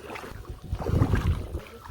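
Water sloshes and churns with uneven splashes and gurgles, swelling in the middle, as someone wades on foot through knee-deep water.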